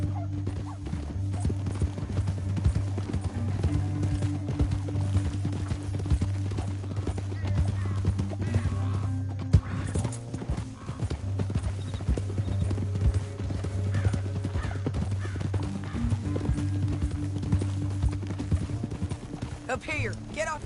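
Rapid hoofbeats pound in a continuous galloping rhythm under a low rumbling backdrop in Red Dead Redemption 2, with voices speaking over them.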